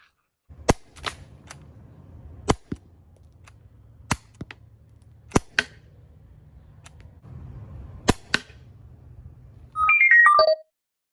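A Crosman 12-gram CO2 cartridge air gun fires 20-gram chrome steel balls: about eight or nine sharp, loud pops, unevenly spaced over quiet hiss, followed by a brief run of electronic beeping tones at the end.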